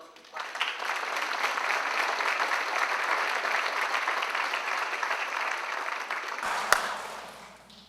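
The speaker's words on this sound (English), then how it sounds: "How about a round of applause for those who clapped?" Sustained audience applause fills a theater at a police academy graduation, steady and dense for several seconds before tapering off, with a sharp clap or knock near the end.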